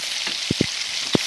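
Fish curry with green vegetables in a pan after hot water is added, stirred with a few soft knocks of the spoon over a steady bubbling sizzle.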